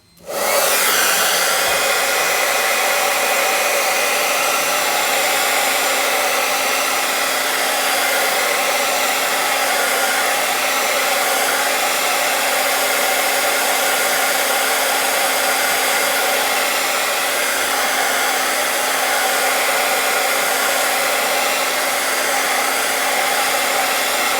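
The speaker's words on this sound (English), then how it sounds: "Can you dry that, Johnny?" A hair dryer blows steadily on a chalk craft project, a loud, continuous whirring hiss with a faint tonal whine that runs unbroken for the whole stretch, with no talking over it.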